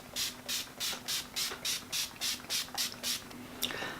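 Urban Decay All Nighter setting spray is pumped onto a face in about eleven quick, evenly spaced hissing bursts, close to the microphone, followed by a short final spritz.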